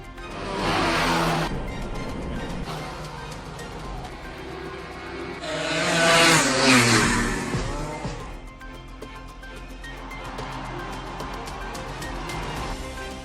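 Motorbike engines roar past during illegal bike racing on a city street in Chennai, rising and fading in bursts, with one loud close pass in the middle and traffic noise between.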